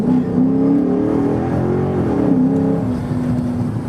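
A 2009 Dodge Charger R/T with a modified engine accelerating, a loud close rising engine drone with a brief dip and swell mid-pull, steady and without speech.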